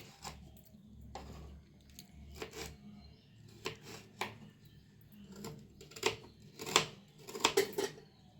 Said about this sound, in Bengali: আমি একটু ছোটো করে কেটে নিচ্ছি যাতে খুব তাড়াতাড়ি এটা সিদ্ধ হয়ে যায়